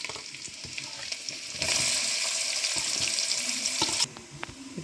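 Sliced onion hits hot oil with garlic in a home kitchen pan, a bright crackling sizzle that swells loudly for a couple of seconds amid clattering stirring, then drops back to a softer fry.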